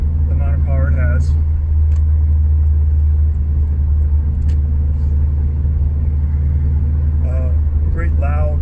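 A 2003 Subaru WRX's engine holds a deep, steady rumble throughout while driving, loud and close, with someone talking over it in short bursts.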